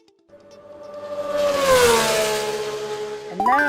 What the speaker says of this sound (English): we can play a car game. How about a speed racer?